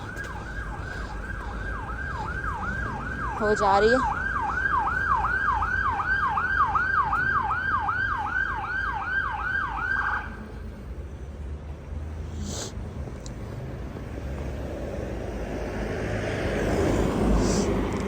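A wailing ambulance siren rises and falls rapidly and loudly, then cuts off, followed by road traffic noise; someone speaks briefly over it.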